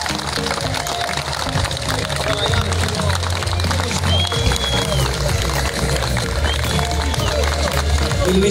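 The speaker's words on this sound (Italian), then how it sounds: "Signori, un applauso forte per l'inaugurazione del ristorante UORTO" Guests at a restaurant inauguration in Policastro Bussentino clapping steadily, a sustained loud applause with crowd murmur and some voices mixed in.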